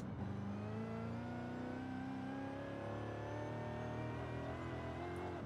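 A supercharged car engine in the driving game Car Jackers revs hard, with a loud, sustained whine that climbs steadily in pitch over several seconds, heard alone without talk.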